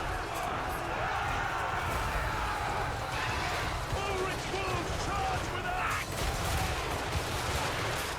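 Heavy gunfire from a Total War: Warhammer 3 battle pours onto Sigvald and his Chaos Knights, a dense continuous crackle of volleys and shots layered under battle noise, steady and loud throughout.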